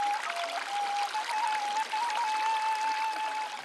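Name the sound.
fresh spring water flowing at Mount Shasta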